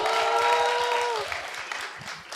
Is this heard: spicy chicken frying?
no